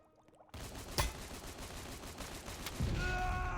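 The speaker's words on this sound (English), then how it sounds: "Shoot him down." Dense, continuous gunfire from a Roblox shoot-out, with a sharp loud shot near the one-second mark and overlapping bursts carrying on throughout, rising toward the end with a faint electronic tone layered in.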